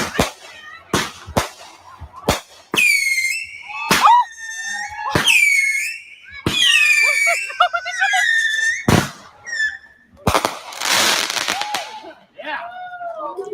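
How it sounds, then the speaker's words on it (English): Rapid sharp bangs and crackling bursts mixed with shrill whistling and screeching tones, loud and close, in irregular clusters. "I like fireworks."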